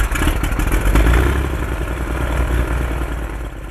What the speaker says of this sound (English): the new IO 470N engine puts out